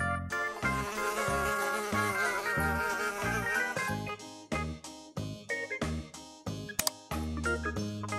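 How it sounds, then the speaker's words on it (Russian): A cartoon housefly buzz in a children's educational animation, a droning hum with a wavering pitch, followed by a bouncy run of tinkling musical notes. "Муха."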